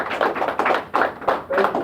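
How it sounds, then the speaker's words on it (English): Classroom audience at a collège clapping in short uneven bursts, close and fairly loud, with some voices mixed in. "can we give them an applause?"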